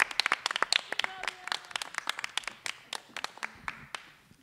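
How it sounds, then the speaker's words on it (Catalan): A modest theatre audience in Poble Sec, Barcelona, claps in a scattered, fairly sparse burst of distinct hand claps that gradually tapers off, with faint voices underneath. "Un fort aplaudiment, sisplau."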